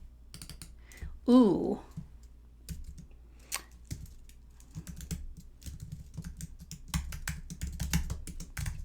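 Keys tapped on a computer keyboard while an email address is entered during a software signup: scattered soft clicks, close by, with a short vocal exclamation near the start.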